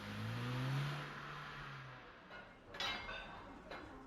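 A car pulls away with a low engine rev that swells and then fades over the first two seconds, followed by faint clinks and light rustling in a quiet setting.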